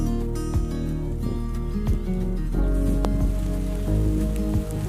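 Light rain falling on a garden, a steady soft patter of drops running through the whole stretch with occasional sharper taps, close and even, with no talking.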